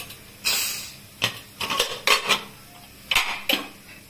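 Metal clanks ring out as a pressure cooker of dal is opened after three whistles: several sharp, close knocks of the lid and pot come in an irregular series with quiet gaps between them.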